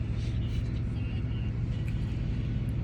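Vehicle traffic rumbles at a TA truck stop, a steady low engine drone with a continuous hum and no clear passing peaks.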